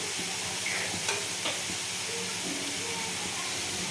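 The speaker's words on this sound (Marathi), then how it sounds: "गॅस कमी करून द्यायचा आणि थोडंसं ना साईडनं कच्चं तेल टाकायचं" Raw oil poured at the edge of a pan of wild chandan batwa greens over a lowered gas flame gives a steady, close hiss and sizzle that fills the whole stretch, with faint stirring clicks and no talk.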